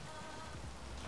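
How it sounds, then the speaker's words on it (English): Steady rain falling in the video game Space Engineers, a dense continuous hiss of drops on a surface filling the whole moment at an even level, with no voices. "It's raining."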